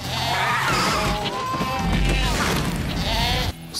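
A goat bleats in wavering, quavering cries over a busy, noisy movie-trailer background mix with rumbling effects, ending in an abrupt cut.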